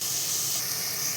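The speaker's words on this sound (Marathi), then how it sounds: "आता आपण इथे कांदा भाजून घेऊया" Onions fry in a pan with a brief, steady, close hiss of sizzling.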